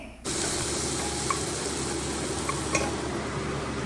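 Crushed ginger, green chili and garlic drop into hot oil in a pan, a steady close sizzle rising suddenly and continuing with small crackles and a few light clinks.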